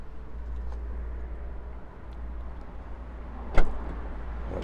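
Powered tailgate on a BMW 330e Touring closing after a single button press: a steady low motor hum runs for several seconds, ending in one sharp latching thunk near the end, heard alone at close range.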